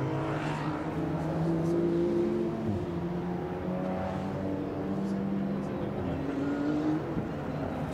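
A Mercedes AMG GT3 race car of the Black Falcon team at the Nürburgring 24-hour race, its engine note rising and shifting as it passes, with a continuous roar of race traffic under faint commentary.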